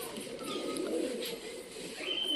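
Pet pigeons coo softly in a low, throaty murmur that carries steadily through the clip, with a faint chirp near the end over light background noise.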